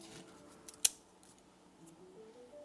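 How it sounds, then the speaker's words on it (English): Scissors cut off bad Alocasia leaves, with a few soft snips and one crisp, close snip near the start before the room goes quiet. "to cut off the bad leaves"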